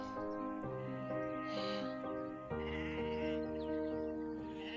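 Many sheep and lambs bleat continuously, overlapping calls from a large flock close by on a farm a week before shearing, with no pauses.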